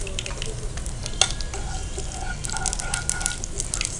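Cumin and mustard seeds crackle in hot oil, a close, busy sizzle with scattered pops and a sharp clink partway through, no voices over it.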